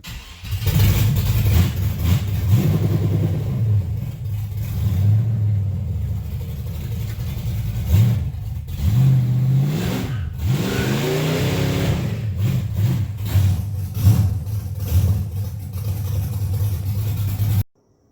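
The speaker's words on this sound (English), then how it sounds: "It cranks up, it drives, it goes forwards and backwards at least, and does a little baby burnout." Chevrolet S10 pickup with a swapped 6.0 engine revving, a steady deep rumble with repeated throttle blips rising and falling throughout, loud and close with no talking.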